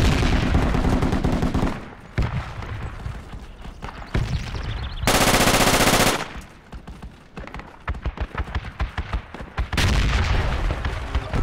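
PKM machine gun fire in the video game Project Reality, dense loud bursts of rapid automatic shots separated by short pauses and sharper single cracks, close and continuous.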